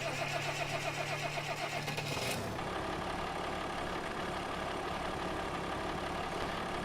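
A Farmall 1206 tractor engine in a video game cranks briefly with a rhythmic starter whir, then catches and settles into a steady, rumbling mid-pitched idle, heard alone and fairly quiet.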